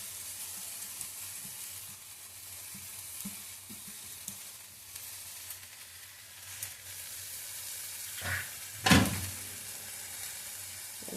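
Eggplant bharta sizzling and frying steadily in a pan over a gas flame just after sugar is added, a continuous soft crackle with occasional stirring clinks and a louder scrape of the spatula near the end.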